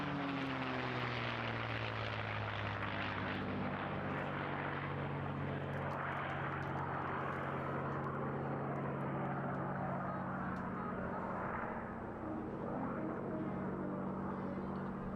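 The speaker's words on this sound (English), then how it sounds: "Please welcome this outstanding machine, the P-51D Mustang." A P-51D Mustang propeller fighter flies past at an airshow, its piston engine giving a deep, throbbing drone with a pitch that slides downward as it passes, loud and continuous with no voices.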